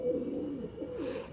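Pigeons coo softly and repeatedly in low, throaty warbles, close by, with no talking.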